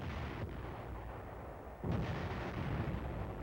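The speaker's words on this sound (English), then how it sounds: "they get protective fire from 7th Division artillery and a hot reception from the enemy." Korean War artillery fire from the 7th Division, heard as a dense, rumbling barrage through a noisy old film soundtrack, with a heavier boom breaking in near the end.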